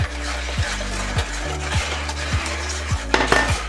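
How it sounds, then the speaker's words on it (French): Melted butter being stirred into lemon muffin batter in a bowl, with a spoon or whisk knocking against the bowl in a steady series of close, clattering strokes, no voices. "On mélange bien"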